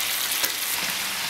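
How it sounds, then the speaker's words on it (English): Cooked potatoes pan-searing until crisp: a loud, steady, close hiss of frying oil that barely changes from start to finish. "I prefer them to be a little bit crispy. That's why I'm pan searing them right now."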